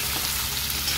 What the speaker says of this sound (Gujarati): સરસ રીતે હલાવી લઈએ.